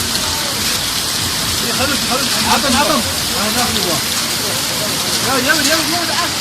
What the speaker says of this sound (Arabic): برد كثيف.